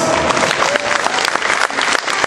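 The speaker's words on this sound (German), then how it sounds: "Wollen wir nicht? Applaus!" Loud audience applause with scattered cheers fills a room, a dense steady patter of clapping from a crowd that tapers slightly near the end.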